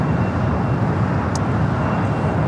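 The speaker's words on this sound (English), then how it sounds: "We do have United Flight 152 heading to Hong Kong, the 787-9 Dreamliner. Next takeoff here on the south side." A United Boeing 787-9 Dreamliner takes off on the south side of LAX, producing a loud, unbroken jet roar close by that stays dense and steady throughout.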